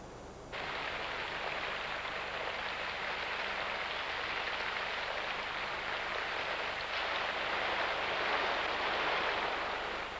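First rains of the season falling in the wild, a dense steady hiss of rain on surfaces that starts abruptly and continues evenly, swelling slightly louder toward the end.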